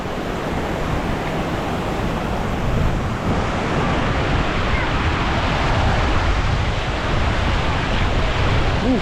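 A continuous, loud roar of rushing river water at a dam fills the whole clip, broad and steady, with no talking.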